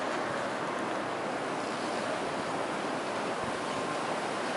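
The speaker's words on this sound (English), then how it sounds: "Mad wind." Strong wind roars continuously outdoors in a snowy blizzard, a dense, steady rush that buffets the microphone with no letup.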